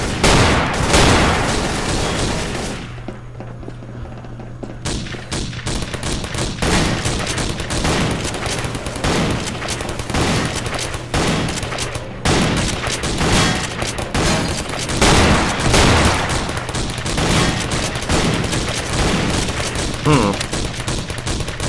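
Rapid bursts of gunfire from the zombie shooter video game Codename Cure, a dense run of loud overlapping shots with a brief lull near the start, continuing steadily throughout.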